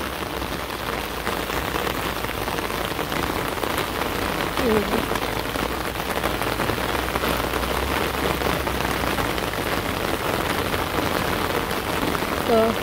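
Heavy rain pours steadily onto a village pond, a dense, even hiss of countless drops that holds at full strength throughout, with a brief word spoken faintly underneath.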